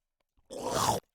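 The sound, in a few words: chomper attack sound from video game The Explorer: 3D Game Kit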